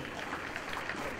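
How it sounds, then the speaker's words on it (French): An audience claps steadily at an official ceremony launching activities at a reception centre, a dense even patter of applause filling the short moment. "Applaudissez s'il vous plaît."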